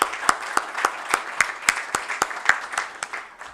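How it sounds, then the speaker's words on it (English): A small group applauds at a chamber of commerce annual general meeting, with distinct sharp claps in an uneven rhythm, close and fairly loud, gradually thinning out toward the end. "So a big applause to our team led by Payal Kanwar, our Director General."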